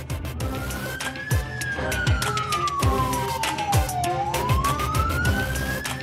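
Emergency siren wailing with a rising and falling pitch sweep, close and loud, over rhythmic percussive beats and a busy street background, with no talking.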